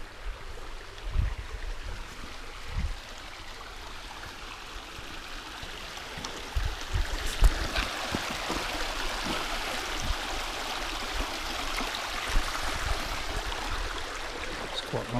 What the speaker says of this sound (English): listening to the water